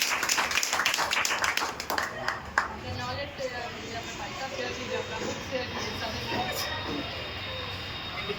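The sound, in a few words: audience clapping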